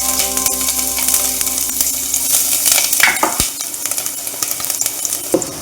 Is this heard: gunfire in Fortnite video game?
no